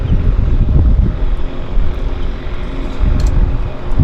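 A floatplane at Vancouver's downtown harbour airport drones low and rumbling, mixed with gusty wind buffeting the microphone, loud and continuous with a swell near the end.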